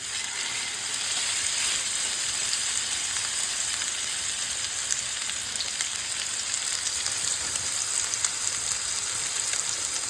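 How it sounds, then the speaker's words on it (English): Steak sizzles loudly and steadily in a hot pan, a constant close hiss and crackle with no talking. "Starts sizzling as soon as you put it in."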